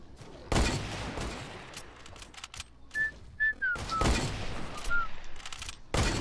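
Gunfire in the survival video game Rust: several loud broadband shots crack out at irregular intervals, mixed with short whistling tones and some faint background noise.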